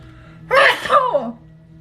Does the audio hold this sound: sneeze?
yes